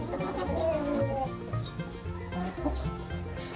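A flock of Black Australorp chickens on a farm clucks and murmurs in a steady, overlapping chatter at close range.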